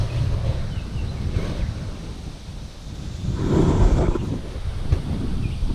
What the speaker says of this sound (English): Kind of windy today.